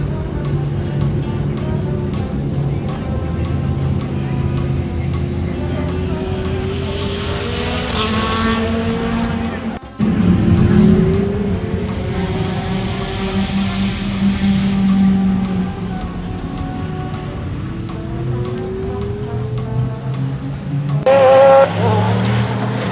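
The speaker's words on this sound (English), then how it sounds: "And then we're going to do a ride by these beautiful Mazdas." Mazda race cars passing on the Road Atlanta circuit, engines droning loudly and rising and falling in pitch as they sweep by, with a sharp break near the middle and another car approaching toward the end.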